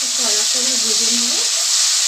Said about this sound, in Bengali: কড়া করে ভেজে নেব